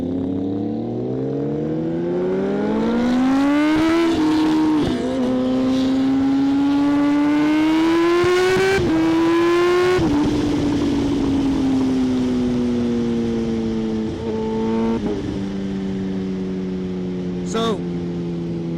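A supercharged Kawasaki ZH2 1000cc motorcycle accelerates hard through several gears, its engine note climbing steadily in pitch and dropping at each shift, loud and close throughout nearly nineteen seconds.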